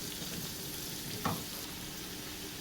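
A fresh turmeric pickle mixture sautéed in a pan gives off a steady, even sizzle of frying, with one brief clink of a stirring spoon partway through and no voices.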